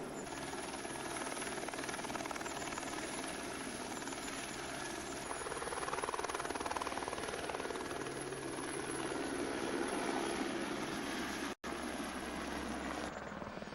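A rescue helicopter's rotor drones steadily and continuously at close range while it hovers over a hillside, with no voices.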